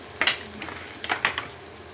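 Small shallots sautéing in oil for a Kerala-style prawn masala, a soft, close sizzle broken by a few brief scraping stirs of a spoon against the pan.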